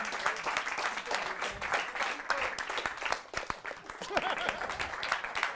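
Applause from a comedy club audience at a stand-up show, saluting the previous comedian; steady, fairly close clapping from a small crowd, with a few voices mixed in.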